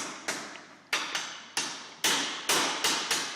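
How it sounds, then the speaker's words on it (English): A metal bevel scroll is tapped flat on a table used as an anvil: eight sharp, ringing hammer strikes in an uneven rhythm, each decaying quickly, close and loud with no talking. "I'm just going to tap it flat on the table there, which I'm using as a sort of anvil."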